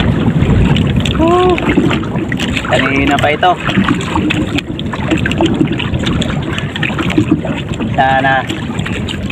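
Strong wind rushes and buffets the microphone over the slosh of water from a paddled boat at sea at night in the Philippines, while someone speaks briefly a couple of times.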